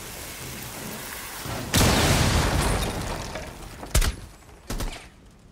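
Gunfire in the Rainbow Six Siege video game: a sudden loud burst of rapid shots with a booming blast, then two shorter sharp bursts over a steady background hiss.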